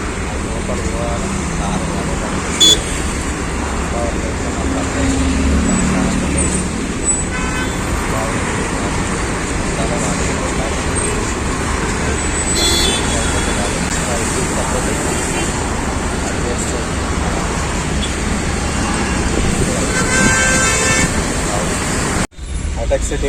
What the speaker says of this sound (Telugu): hitech city full traffic,